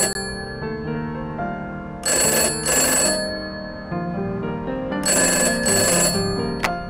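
Telephone ringing in a film scene, an old-style bell ring sounding in two bursts separated by a pause, fairly loud over a low, steady room background.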